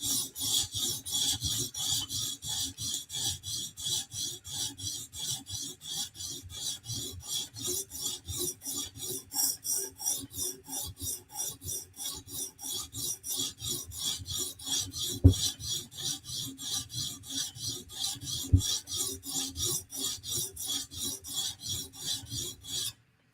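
A Chris Reeve Sebenza knife blade is drawn across a TSProf sharpening stone in steady, rhythmic rasping strokes, close and fairly loud, with no voices.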